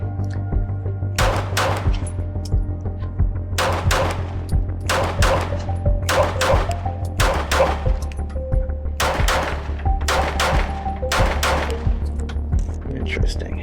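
A Glock 19 Gen 6 pistol fires outdoors in daylight, sharp loud cracks coming singly and in quick pairs and bursts across the stretch, over a steady low hum.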